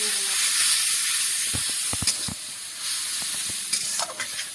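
Spice paste frying in a pan for a village-style dish of cabbage and fish oil, a steady loud hiss and sizzle with a few scraping stirs and clatters of a spoon against the pan.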